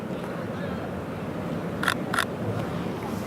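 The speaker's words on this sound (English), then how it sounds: "You can hear the shutter sound is a little bit different too." Sony a7R III mirrorless camera shutter firing twice in quick succession, two crisp close clicks over steady outdoor city background noise.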